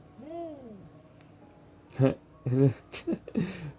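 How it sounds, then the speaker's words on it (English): A single owl-like hooting bird call sounds near the start, sweeping up then down in pitch and fairly clear against quiet background, followed by someone talking. "this thing just made a bird noise"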